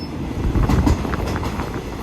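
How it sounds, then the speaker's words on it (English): A train runs steadily through northeastern Thailand, a continuous loud rumble of wheels and rolling carriages with faint rhythmic clatter and no voices. "I'm exploring the train here."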